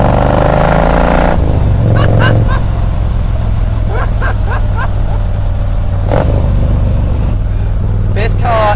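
A Morgan 3 Wheeler Stage 1 engine roars loudly and close, a steady heavy drone with a sharp gear change early on, while someone talks over it in short bursts.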